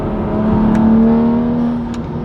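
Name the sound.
BMW N55 engine held at 4,500 RPM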